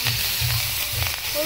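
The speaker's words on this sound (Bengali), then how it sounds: "এই চুলায় এই তেলের মধ্যে এই শাকটা দিয়ে দিব আমরা।" Sesame-leaf greens (sechi shak) sizzle in hot oil on a village stove, a steady broad hiss with crackle, close and fairly loud, with a low background rumble.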